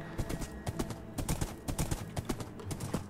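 Horse hooves clip-clop in Minecraft, a rapid, busy run of close hoofbeats with faint background noise throughout.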